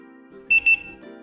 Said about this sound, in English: We can now hear double beeping.